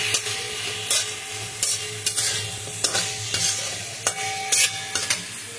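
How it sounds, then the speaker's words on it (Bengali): Onion, ginger and garlic fry in a pan for an egg curry, a close, constant sizzle with a spatula scraping and stirring roughly once a second. "পেঁয়াজ, আদা, রসুনটা আমার ভাজা হয়ে গেছে।"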